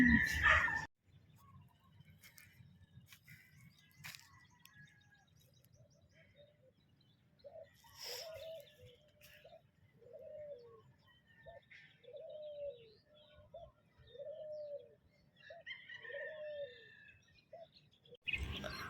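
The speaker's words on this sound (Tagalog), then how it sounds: "May kalapati dito, may kalapati dito." Soft, repeated pigeon coos in a steady rhythm, each a low rounded call, with faint chirps and a quiet outdoor background.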